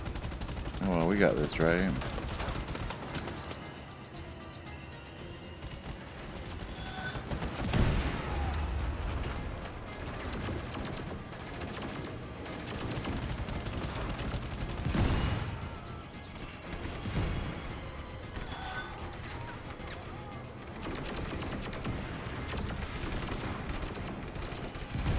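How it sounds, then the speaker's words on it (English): Gunfire in the open-world action game Just Cause 3, heard during a vehicle chase as repeated bursts of automatic fire and heavy booming shots spread across the whole stretch, with someone briefly talking between them. "This is not easy to drive and shoot, that's for sure."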